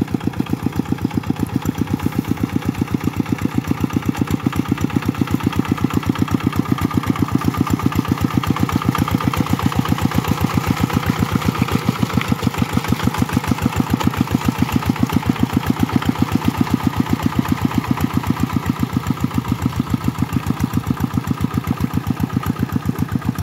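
A Vikino RV125 engine of Korean origin idles steadily and close by, a continuous mid-pitched chugging that runs unbroken for the whole stretch with no voices over it.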